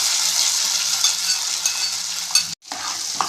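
Ven pongal being stirred in a pot right after the tempering is added, with continuous scraping and a soft oily sizzle, close and fairly loud, briefly cutting out near the end before resuming.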